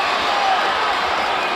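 A boxing arena crowd roars for Oscar De La Hoya during his fight with Floyd Mayweather Jr., a brief, loud, sustained wall of cheering with a commentator's voice faintly under it.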